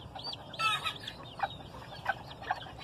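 Two broody hens sit side by side on their nests and let out a few short, soft clucks, close by and spaced irregularly, with no talk.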